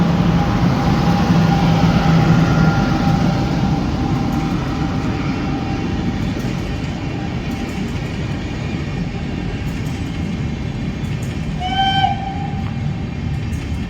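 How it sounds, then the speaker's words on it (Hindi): The Patna Kota Express passes with its locomotive, a loud continuous rumble of rolling wagons and rails that fades slightly, with a short horn blast near the end. "पटना कोटा एक्सप्रेस, पटना से कोटा की ओर जाने वाली"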